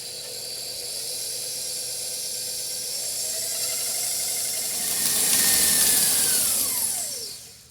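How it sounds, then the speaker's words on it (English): An electric mixer beats gluten-free focaccia batter made with canola oil, a steady motor whir that rises in pitch and loudness toward the end before winding down. "I'm going to mix this up and beat lots and lots of air into it"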